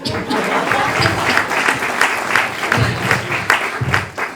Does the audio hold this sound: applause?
yes